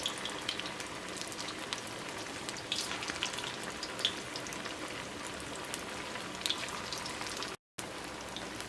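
Potato vada frying in hot oil over high heat produces a steady, fairly quiet crackling hiss with small pops scattered throughout, briefly interrupted near the end.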